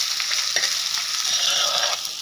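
Ginger, onion and green chilli sautéing in a pan for a fish curry, a steady close sizzle with stirring scrapes running throughout, no voices.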